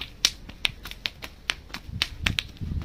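White snowberries squashed one after another, each giving a sharp, crisp little pop, about a dozen in quick irregular succession, close and clear with no talking.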